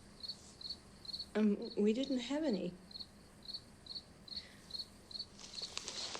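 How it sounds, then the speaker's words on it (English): Crickets chirp in short regular bursts through the whole stretch, fairly close and steady, with a person speaking briefly over them partway through. "those crickets are really loud"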